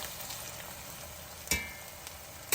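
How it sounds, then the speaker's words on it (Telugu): Onions and curry leaves fry in a pan with a soft, steady sizzle, broken by a couple of sharp clinks or pops near the end, with no talking. "వేగుతున్నాయండి ఉల్లిపాయలు ఇప్పుడు ఇందులో కరివేపాకు వేసేద్దాం"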